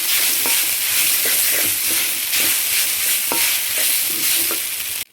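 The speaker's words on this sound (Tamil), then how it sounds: "இப்போ வெந்துருச்சு இப்போ நம்ம அவளை சேர்த்துக்குவோம் அவளை வந்து இதோட சேர்த்து" Flattened rice (aval) stirred into a cooking kolukattai mixture, a steady loud sizzling hiss under repeated scraping strokes of a spoon against the pan, close up and without speech.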